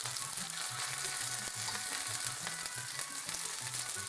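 Morel mushrooms frying in a pan produce a dense, continuous sizzle with fine crackling throughout, close and even in loudness, with no talking.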